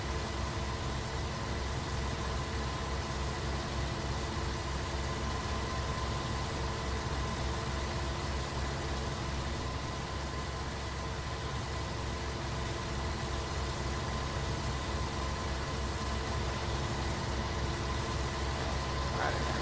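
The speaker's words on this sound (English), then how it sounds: "Feels like the tractor volume's a little high." A tractor engine in a farming video game drones at a constant idle, a faint, steady mechanical hum that continues unchanged throughout, with no talk over it.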